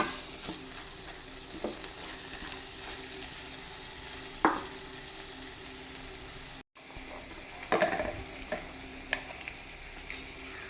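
Beef roast with coconut fried in oil being stirred in a pan, a soft steady sizzle with occasional scrapes and clinks of the spoon, no talking.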